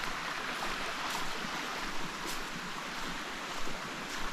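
Steady broadband rush of a waterfall and flowing stream at Mt. Carmel Waterfalls in Grenada, a constant near roar of falling water with no voices, holding even throughout.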